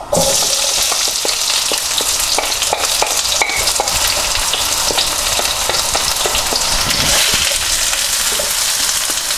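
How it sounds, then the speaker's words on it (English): Onions sizzle and crackle loudly in a hot wok, with frequent sharp pops and scraping stirs over a constant frying hiss. "The first thing we want to do is to fry off the onions."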